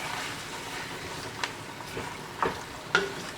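Cowboy stew ingredients stirred together in a cooking pot, a soft continuous scraping and shuffling with a few sharper clinks of the spoon against the pot near the end.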